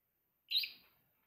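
One brief, bright bird chirp sounds in the background of a quiet indoor space, fading quickly with no voices.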